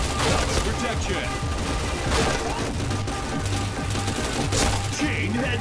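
Rapid gunfire with sharp headshot impact hits in the online shooter PointBlank, dense bursts and cracks layered over game music, with a voice speaking at moments.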